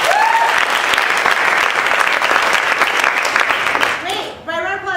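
Audience at an improv graduation show bursts into sustained, loud applause from many hands, with cheers mixed in, fading near the end as a voice starts talking.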